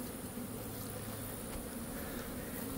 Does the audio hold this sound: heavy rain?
no